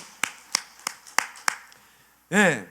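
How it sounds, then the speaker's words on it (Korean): A church congregation claps five distinct times in a slow, steady rhythm, crisp and fairly close, followed by a voice calling out. "다시 한번 하나님께 박수를 해보자"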